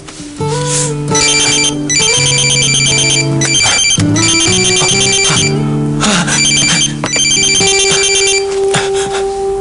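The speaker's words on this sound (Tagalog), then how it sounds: "Dewong, tumatawag ka ba?" A phone ringtone plays loudly and continuously, a bright melodic electronic tune repeating in bursts with no talking.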